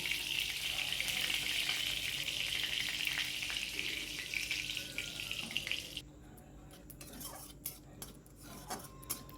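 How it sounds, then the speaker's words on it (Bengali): Cumin and bay leaves sizzle in hot oil in a pan, a steady loud bright frying hiss that drops off partway through, leaving quieter clinks and kitchen clatter. "তো দেখো আমি এর মধ্যে জিরে আর তেজপাতা ফোড়ন দিয়ে দিয়েছি।"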